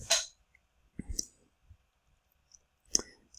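A computer mouse clicks while confirming an OK button in a software dialog: a few short, sharp, close clicks spread over a quiet moment, with soft low handling noise between them.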